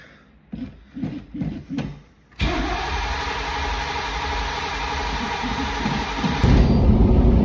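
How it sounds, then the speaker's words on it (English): A Chevrolet Camaro engine cranking without catching: a few short starter bursts, then a long steady loud whirring drone of continuous cranking that grows slightly heavier near the end, close up with no talking. "Well, can't get the car to fire."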